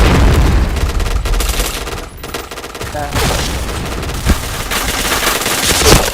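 Rapid automatic gunfire and explosions from the online shooter game Point Blank in a live match, dense bursts of shots filling the whole stretch with a few louder booms and bits of talk underneath.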